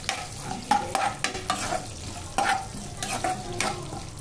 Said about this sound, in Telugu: ఇప్పుడు ఇందులో ఉల్లిపాయలు వేసి గోల్డెన్ బ్రౌన్ కలర్ వచ్చేంత వరకు వేయించుకుందాం